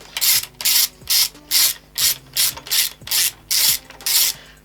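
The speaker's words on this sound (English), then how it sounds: "here is my ratchet with an 8mm and the extensioner, because without the extensioner it would be a bit hard to get to this bolt" A ratchet wrench fitted with an 8mm socket and extension works bolts loose on a 6 hp Johnson/Evinrude outboard motor, giving about ten evenly spaced, close, loud bursts of rapid clicking with brief pauses between strokes.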